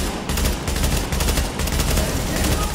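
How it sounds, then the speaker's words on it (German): Rapid automatic gunfire in The Division as a barrel is shot, a dense burst of loud, fast-repeating shots with brief gaps, close and dominant. "Ich schieße hinten auf seinen Fass da"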